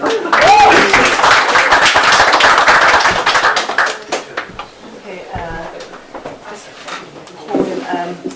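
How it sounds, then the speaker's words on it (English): Applause from a pub audience at a Limerick poetry night, loud and fairly dense for about four seconds, then thinning to scattered claps with talk and background chatter. "And now one more round of applause for Miss Marie Studer."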